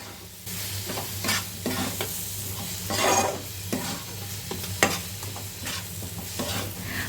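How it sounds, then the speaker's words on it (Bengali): A spoon stirs parwal (pointed gourd) bharta with added sugar in a hot pan, with repeated scraping strokes over a continuous sizzle and a low hum, close by and with no talk. "এবার চিনিটাকে দিয়ে ভালো করে নাড়াচাড়া করে নেবো"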